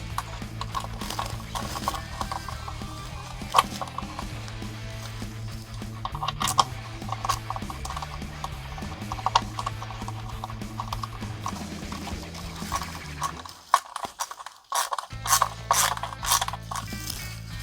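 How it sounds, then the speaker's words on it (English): Screws being driven into the neck joint of an EVH Wolfgang electric guitar, heard as steady close mechanical ratcheting and clicking from a screwdriver over a low background hum, with a short pause near the end. "And then the other 2 screws can go in as well."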